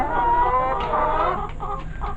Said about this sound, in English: She has 30 laying hens.